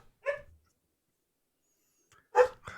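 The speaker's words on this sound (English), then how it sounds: "Sorry, my dogs are barking." Several dogs bark indoors at home, a short burst of barks followed by a long quiet gap, then a louder, closer cluster of barks and yips near the end.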